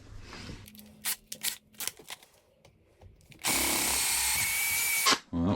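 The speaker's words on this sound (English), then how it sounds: "now with a slightly bigger drill" A power drill with a slightly larger bit bores into metal held in a vise, first in short stop-start bursts, then in a loud, steady, sustained grind lasting about two seconds before it stops abruptly.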